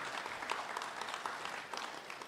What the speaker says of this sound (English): Another round of applause for the minister.